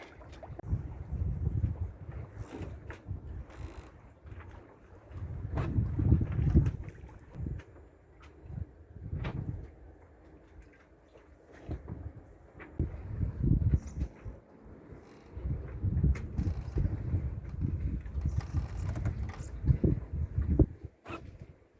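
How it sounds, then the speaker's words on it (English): A sailboat under full mainsail and genoa at sea in early morning, heard as steady rushing wind and hull water noise with gusty swells of low buffeting, continuous and close, without talk. "I'm sailing with a main, full mained up, and full Genoa into the horizon line at 7 in the morning."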